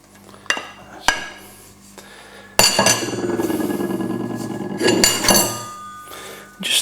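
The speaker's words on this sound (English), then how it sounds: "Just stir that in the juices, and that should all dissolve nicely together." Chopped marshmallows are stirred into strawberry juices in a pan, with a spoon clinking and knocking against the metal, a few sharp taps followed by a longer scraping stir.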